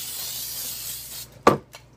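A soft hissing spray of cooking oil onto a pan for baguette dough runs for over a second, then a brief sharper hiss and one faint puff follow, close and quiet.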